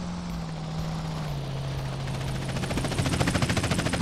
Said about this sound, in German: Das ist nur der News-Helikopter, der ist extrem harmlos.